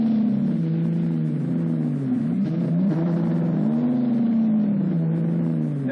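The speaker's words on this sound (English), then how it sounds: "there's also that tremendous sound from a Ferrari" A Ferrari sports car engine hums steadily at close range, its tone rising and falling gently as it revs in a smooth, continuous drone, heard alone with no talking and a muffled, older recording quality.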